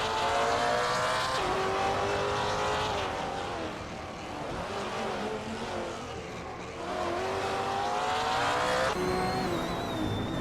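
Several race cars, among them a 2010 BMW M3 GT4, roar past in a racing video game, with engines rising and falling through gear changes and tyres squealing, steady and loud throughout.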